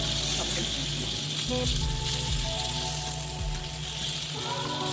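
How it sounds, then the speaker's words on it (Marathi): Pomfret fish sizzles steadily in hot oil in a pan, a constant crackling hiss with faint clinks and low background noise. "पापलेट एका बाजूने छान सोनेरी रंगावर भाजून झाल्यावर हलक्या हाताने पलटून घेऊ"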